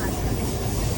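A passenger train travels on rails past Pune, heard from inside the carriage as a steady, dense rumble and roar that lasts the whole moment with no clear pauses.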